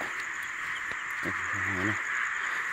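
A short burst of pulsed croaks from small native gakong frogs rises once over a steady, high insect drone in the night air.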